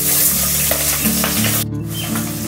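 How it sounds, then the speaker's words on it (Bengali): Tengra fish frying in hot mustard oil in a pan makes a loud, steady, close sizzle that keeps going throughout, with no talking. "এখন আমি মাছ ভাজা করব।"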